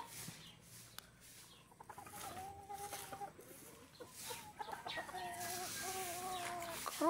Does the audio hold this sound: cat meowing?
no